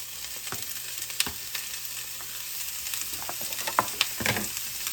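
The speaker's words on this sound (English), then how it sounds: "I like to go ahead and saute my vegetables before I put them in a soup" Vegetables for soup sauté in a hot pan, giving a continuous close sizzle and fry with scattered stirring clicks and scrapes throughout.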